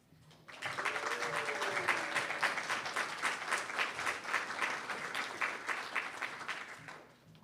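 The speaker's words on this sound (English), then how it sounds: "let's give those ladies another round of applause" Applause from the audience at a dental assisting pinning ceremony at TCAT Knoxville, rising quickly into a full, steady round of clapping that fades out at the end.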